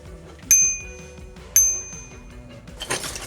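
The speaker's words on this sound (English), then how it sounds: "and a bike bell." Two bright bicycle bell dings from the bell packed with a Vivi Ace01 e-bike, about a second apart, each ringing and fading, followed by a short rustle of packaging; no talking.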